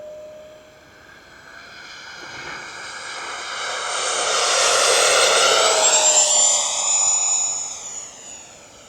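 E-flite 80mm F-16 radio-controlled model jet with an electric ducted fan passes by, its whine rising and falling in pitch as it swells to a loud peak and then fades away.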